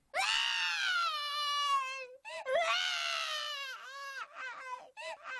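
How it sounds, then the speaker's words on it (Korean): Loud crying wail performed as a sound effect in a Korean folk tale for children, two long sustained sobbing cries followed by shorter broken whimpers, close and alone without narration. "방 안에서 갑자기 아기 울음소리가 터져 나왔기 때문이에요."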